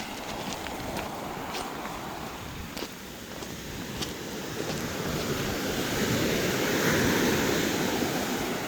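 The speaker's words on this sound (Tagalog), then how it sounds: "Ganda ng tunog ng dagat." Sea waves wash onto a rocky shore after a typhoon, a continuous roar of surf mixed with wind buffeting the microphone. The surge swells louder toward the end.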